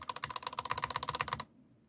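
Rapid, steady keystrokes on silent linear silk switches, a soft even run of muted clacks lasting about a second and a half before stopping into quiet.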